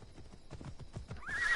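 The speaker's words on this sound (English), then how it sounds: "call my horse." A horse in the video game Assassin's Creed Odyssey trots in with quick clip-clop hoofbeats, then lets out a rising whinny at the end; close and fairly quiet, with no talking.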